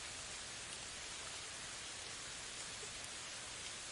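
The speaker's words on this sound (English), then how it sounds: "Listen closely to the soothing patter of raindrops falling softly." Steady rain falls in an unbroken, soft hiss, a uniform broadband patter that holds the same quiet level throughout with no speech.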